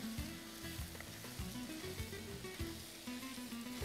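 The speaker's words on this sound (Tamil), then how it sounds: "போட்டு நல்லா வதக்குங்க." Chopped kohlrabi sautéing in a pan, a steady close sizzle and crackle of oil with occasional soft stirring scrapes, no voices.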